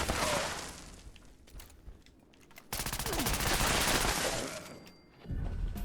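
The V63 laser carbine fires rapidly in Fallout 76, with dense sustained bursts of sharp energy shots. A long volley is followed by a short pause, then another burst, loud and close.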